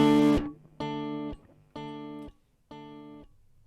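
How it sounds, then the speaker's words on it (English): A heavily overdriven guitar hit through the Cakewalk TH3 plugin, followed by three clean, undistorted delay repeats of the chord, each echo evenly spaced and slightly quieter than the last, with no talking. "what you heard was one very overdriven signal and then a whole bunch of delays which had no overdrive on them whatsoever"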